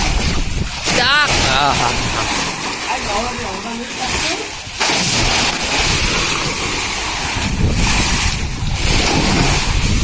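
Sea water splashes and sprays against a boat riding over waves, with loud rushing gusts of wind and surf noise buffeting the microphone and voices shouting now and then.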